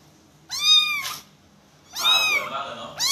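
A pet kitten lets out two loud, close, drawn-out meows separated by a pause, then starts a third, with little else around them.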